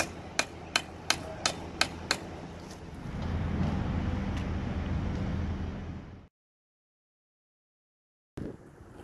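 A technician hammers a nail through a power cable for a 10 kV DC sheath test: six sharp, evenly spaced metallic strikes ring out close by, then a rumbling broadband noise builds and cuts to silence before a short burst returns.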